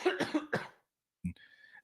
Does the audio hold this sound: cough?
yes